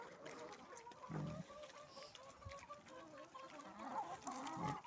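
Chickens cluck repeatedly in a steady, close chorus, with a few louder bursts over a busy farmyard background.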